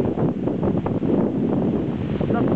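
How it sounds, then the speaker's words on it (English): A strong wind blusters into the microphone along the waterfront at Battery Park, Manhattan, the day after Hurricane Irene, a continuous low roar and buffet filling the whole stretch with no clear speech. "There's a high wind out here."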